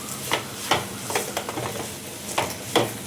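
Ivy gourd and egg masala being stirred with salt in a pan, a spoon scraping and clacking against the pan in several sharp strokes over a soft, steady sizzle.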